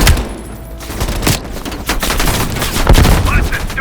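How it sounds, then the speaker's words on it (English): Sustained heavy machine gun fire in Call of Duty: Black Ops Cold War, loud dense bursts with sharp repeated reports throughout, battle noise layered underneath. "Heavy MG on the ridge."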